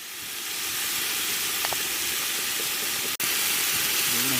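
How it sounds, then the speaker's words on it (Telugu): Cashews fry in hot oil for mushroom biryani in a village kitchen, giving a steady, loud, close hiss and sizzle with a brief dropout near the end. "ఇది బాగా ఎర్రగా అయ్యేదాకా వేగించుకోవాలి."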